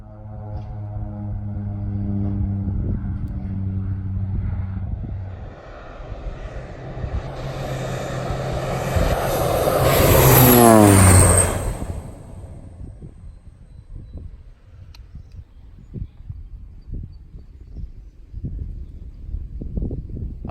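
A low-flying crop-spraying airplane passes over a corn field at about 150 mph. The engine roar builds loudly to a close pass, sweeps down in pitch as it goes by, then fades into the distance.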